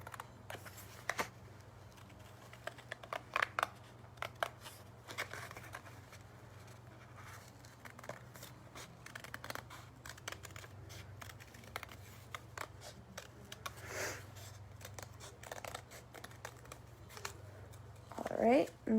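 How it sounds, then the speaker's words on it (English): Scissors snip through paper along a drawn line while a butterfly ring shape is cut out, giving a run of short, close, irregular crisp cuts over a low steady hum, with a brief rustle near the end. "Again, what I'm going to do is I'm just going to cut along this line that I made."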